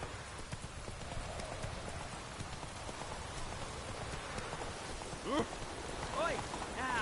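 Horse hooves clip-clopping steadily in The Witcher video game over a continuous wash of rain, with a few rising whinny-like tones near the end.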